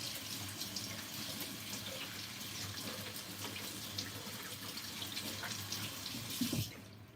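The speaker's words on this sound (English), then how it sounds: "Gonna wash my hands." Kitchen tap running steadily while hands are washed, a constant close splashing hiss that ends abruptly as the water is shut off.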